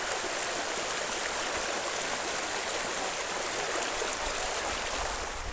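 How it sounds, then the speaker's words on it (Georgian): A stream of water flows steadily and loudly outdoors, a constant broad rushing and splashing with no pauses and no voices. "ნახე ხალხო წყალი."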